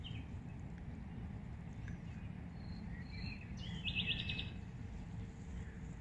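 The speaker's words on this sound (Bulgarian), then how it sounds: "Но това не пречи на птиченцето да пее." A small bird sings outdoors, its faint high chirps and short trills coming mostly in the middle of the clip over a low, constant background rumble.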